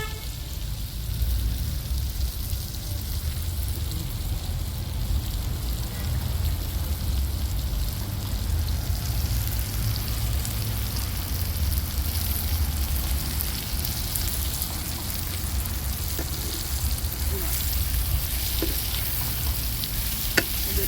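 Chopped tomatoes fry in an okra curry (bindi ka saalan), giving a loud, continuous sizzle with occasional stirring scrapes that runs unbroken throughout.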